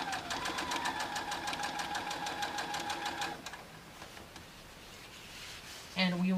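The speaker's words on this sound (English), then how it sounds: "we will keep sewing all these strips together until we have one long strip of binding" A sewing machine joins fabric strips for bias binding in a fast, even run of needle strokes for about three seconds, then stops, leaving quiet handling noise and a brief tonal sound near the end.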